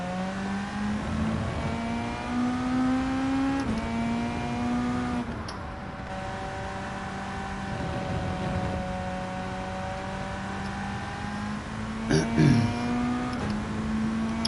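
Car engine in Gran Turismo 7 on worn-out tyres, a steady mid-pitched drone that rises and falls with gear changes, running continuously under a voice talking over it.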